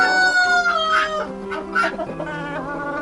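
Several Cochin chickens cluck and call close by, overlapping tones with a rooster-like crow mixed in, steady and fairly loud throughout.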